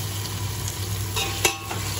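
Tomatoes and spices fry in a pan for a biryani, a soft continuous sizzle with light scrapes of stirring and one sharp click near the middle, no voices.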